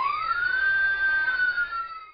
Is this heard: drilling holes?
no